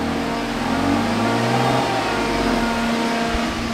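A BMW M3 engine pulls hard in fifth gear on a dyno, a loud, steady rising drone held close and sustained throughout, with no talking over it.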